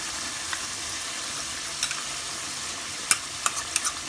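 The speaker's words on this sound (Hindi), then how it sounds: "अभी हम इसे और भुनेंगे" Tandoori chicken masala fries in oil while being stirred, a steady close sizzle broken by several sharp scrapes and taps of a spoon against the pan.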